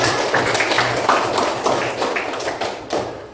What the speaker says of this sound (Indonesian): tepuk tangan untuk kalian semuanya